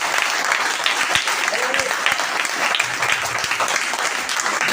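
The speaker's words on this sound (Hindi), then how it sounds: "ताली एक बार" An audience at a business training event in India applauds, loud sustained clapping from many hands filling the room evenly for several seconds.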